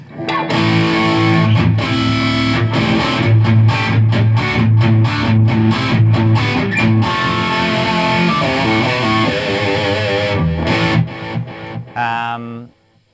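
An electric guitar played through a G2D Morpheus overdrive pedal with the gain about halfway rings out loud, gritty strummed chords that keep going before cutting off abruptly at the end.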